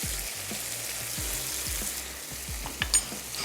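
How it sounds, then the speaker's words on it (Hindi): Beef mince and tomatoes frying in a pan, a continuous soft sizzle with light scraping of a spoon and a few low knocks. "अच्छा सा हमने इसको भून लेना है ताकि टमाटर भी थोड़े से सॉफ्ट हो जाए"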